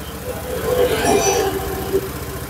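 Fuel-injected motorcycle engine idling steadily near 1600 RPM, a continuous low rumble with a soft mechanical hum close by, holding even throughout the short stretch.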